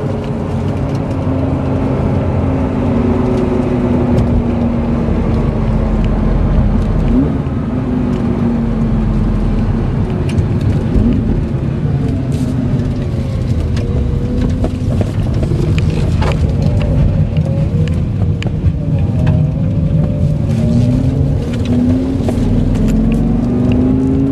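A salvaged 2005 Lamborghini Gallardo cruises at about 60 mph, its engine a constant drone beneath heavy road and wind noise heard from inside the cabin, with no speech.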